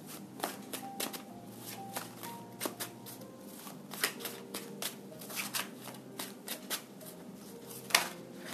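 Tarot cards being shuffled by hand, a steady series of crisp riffling and flicking bursts, fairly close and quiet, with no talking.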